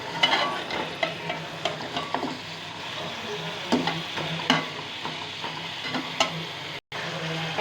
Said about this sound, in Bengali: এভাবে পেঁয়াজ এবং তেলের সাথে মাংসটা একটু ভেজে নেব।